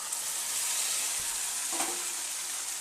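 Fried potatoes and soybean chunks go into a sizzling spice masala in a pan, producing a constant close hiss with a brief surge as they land, and no voices.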